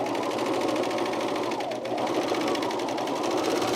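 A serger overlocking the edge of a camisole seam, a fast steady mechanical whir with rapid stitching chatter, continuous and close up.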